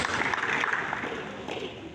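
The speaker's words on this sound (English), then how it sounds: "Please let's give him another big round of applause." Applause fills a room at a coffee-table book unveiling in Lagos for the Ooni of Ife, a steady, moderately distant wash of clapping lasting a couple of seconds with no voices.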